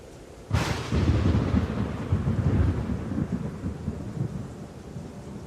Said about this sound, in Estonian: Seistes tormis ägavate puude all läbimärg, tundsin, et möödus õrjetu aeg.